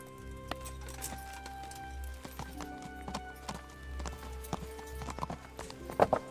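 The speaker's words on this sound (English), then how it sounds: "My horse." Hoofbeats of a horse in the medieval game Kingdom Come: Deliverance, a clear rhythmic clip-clop thudding over a low ambient hum, growing busier and louder toward the end.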